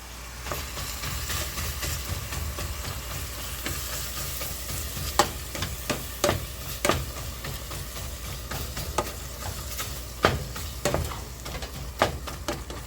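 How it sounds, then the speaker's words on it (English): Ground beef cooking in a pan for homemade lasagna is broken up with a meat chopper, giving steady sizzling under repeated sharp scraping and tapping strokes, close and fairly loud, with no speech. "I can chop it up with my meat chopper."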